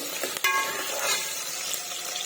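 Onions frying in a pan for a mutton curry, a steady broadband sizzle that crackles close and continuous, with a brief sharper clatter near the start and no voices.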